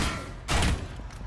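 A single loud gunshot in the Rainbow Six video game booms over a dense, noisy background of game sound, short and close.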